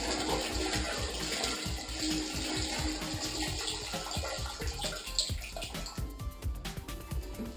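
Waste water splashes and gurgles steadily as it is poured out of a Camco 41545 portable travel cassette toilet, a continuous rushing pour with some sloshing.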